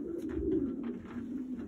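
Pigeons coo in a loft, low throaty rolling calls that overlap continuously and close by, with faint rustling in the background.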